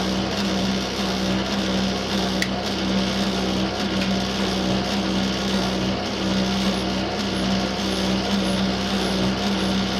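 A faulty tumble dryer running: a steady, loud mechanical rumble with a rattling, grinding texture and a constant hum continues throughout, close and unbroken.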